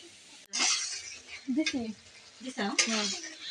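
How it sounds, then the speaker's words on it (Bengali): Onions fry in oil for biryani birista, a sizzling hiss broken by clattering utensils and stirring, with a person talking over it at close range. "পেঁয়াজগুলো ভেজে নিচ্ছে, এদিকে পেঁয়াজগুলো লাল কালার হয়ে আসছে"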